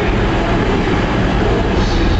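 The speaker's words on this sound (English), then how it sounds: "here comes the Wolverhampton train" A passenger train arriving at a railway station platform, its rolling wheels and engine giving a loud, steady rumble and clatter that continues without a break.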